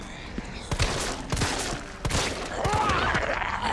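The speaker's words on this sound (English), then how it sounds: "I shot him like 4 or 5 times point blank in the head" Gunfire in the Resident Evil 3 Remake video game, several sharp shots in quick succession over a loud, dense game soundscape, with a voice speaking over it.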